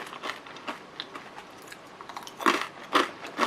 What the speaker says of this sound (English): I feel like I'm eating some healthy chips because they are made of gobo.